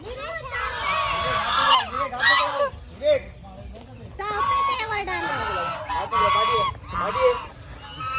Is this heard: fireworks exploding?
no